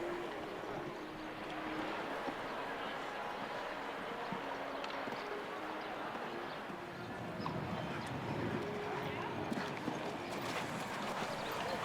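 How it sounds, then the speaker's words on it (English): Horse hooves on a show jumping ring at a CSI3* 1.50m Grand Prix on the Sunshine Tour, rhythmic clip-clop beats over an open-air background with faint distant voices. "This is the first week of Heart's Destiny competing here in Verrières."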